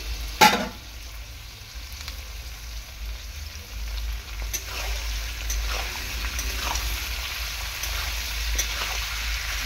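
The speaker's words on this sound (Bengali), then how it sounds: "এবার আমি নাড়াচাড়া করব।" Capsicum and chopped tomato frying and stirred in a pan over medium-high flame for chilli chicken, opening with a sharp clank, then a steady sizzle broken by several spatula scrapes, close and moderately loud.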